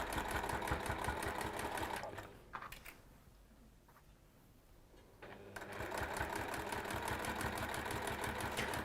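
A sewing machine chugs rapidly and steadily up close, stops for a few seconds of near quiet, then starts running again at the same pace.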